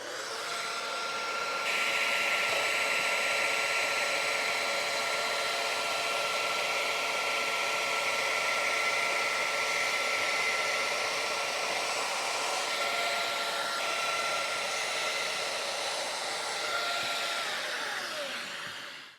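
A Festool Domino XL DF 700 joiner runs with a loud, steady high-pitched whine for nearly twenty seconds, its pitch shifting slightly during a slow plunge cut before spinning down at the end.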